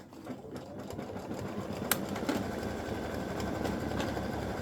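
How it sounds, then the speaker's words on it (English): A sewing machine runs steadily, sewing a triple stitch on an appliqué star for a fabric tic-tac-toe board, its continuous low whirring hum faint and unbroken. "And it does stitch in a triple stitch, so it will stand out."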